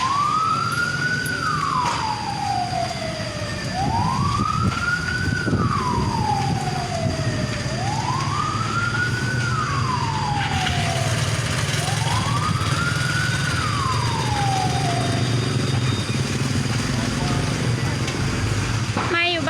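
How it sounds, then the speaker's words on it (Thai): Fire engine sirens wail in four repeated rising-and-falling sweeps as trucks arrive at a house fire in Laos, loud over a constant roar of engines and crowd noise. "ดับเพลิงมาแล้ว"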